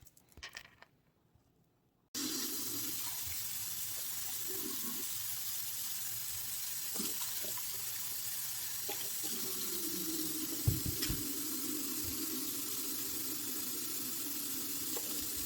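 Food is rinsed under a running kitchen tap, a steady close stream of water with faint handling clatter, preceded by a couple of seconds of quiet.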